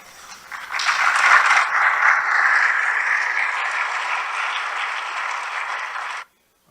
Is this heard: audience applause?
yes